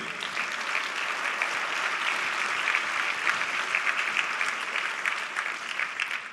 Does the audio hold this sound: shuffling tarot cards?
no